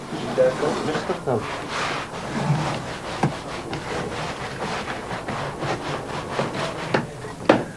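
Clay pots being sanded and smoothed by hand with traditional tools, giving repeated rough rubbing and scraping strokes, close and fairly loud, under a narrator's voice.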